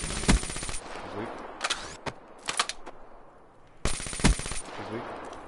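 Rapid bursts of video game gunfire in a 2v2 match, with two long automatic volleys at the start and end and scattered shorter bursts between, loud and close.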